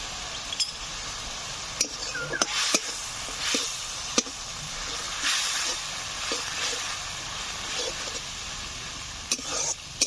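Spice masala of coriander powder, turmeric and salt fries in oil while being stirred for a village-style fish curry. It makes a continuous hiss with intermittent spatula taps and scrapes against the pan.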